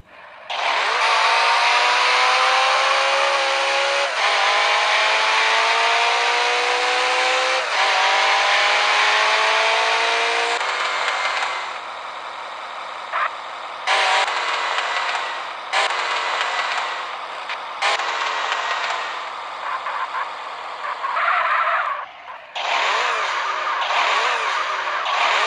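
Bugatti Chiron engine in GTA San Andreas roars loudly and continuously with rising gear sweeps, then tyres skid and squeal in repeated bursts while the engine keeps droning, with no talk.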